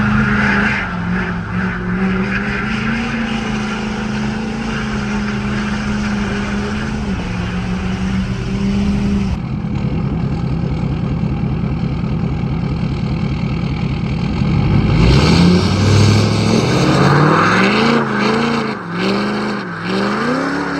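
New truck making a quick pull: a loud, close engine that idles and rumbles at first, then revs hard and climbs in pitch as it accelerates, holding a strong roar through the final seconds, with no talking.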